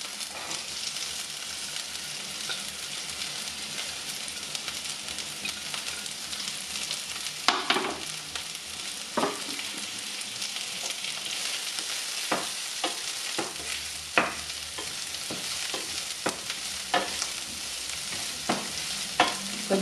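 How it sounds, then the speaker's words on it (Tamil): Onions fry in a pan for a Tamil potato bonda, a steady close sizzle with repeated scraping strokes as they are stirred. "வெங்காயத்தை போடுவோம்."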